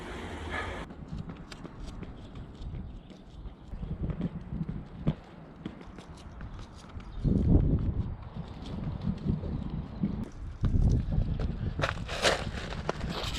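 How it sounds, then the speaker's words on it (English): Gusty wind buffets the microphone outdoors, with rumbling bursts rising and falling alongside footsteps-like thuds. "oh, it's windy"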